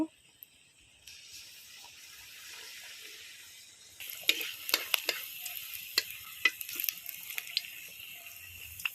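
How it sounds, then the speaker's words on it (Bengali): Bakul pitha drop into oil in a wok: a quiet hiss at first, then louder bubbling sizzle with sharp crackles and pops after a few seconds, close by and with no talking. "এইভাবে আমি সব পিঠাগুলো ভেজে নেব"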